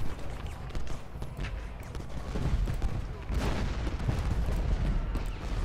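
Massed musket volleys and artillery in the Civil War strategy game Ultimate General, a dense continuous crackle of rifle fire mixed with low booms, growing fuller and heavier in the second half.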